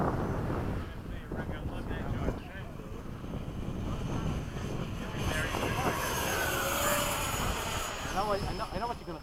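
An FMS 70mm F/A-18 RC jet flies its maiden flight, a steady ducted-fan roar under wind buffeting on the microphone, rising into a whining pass with pitch shifts in the second half, while people talk nearby.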